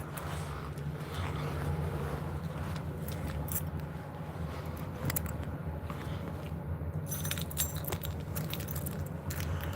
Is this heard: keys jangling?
yes